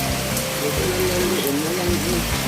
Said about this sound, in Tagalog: Maghapon siguro yung ulan.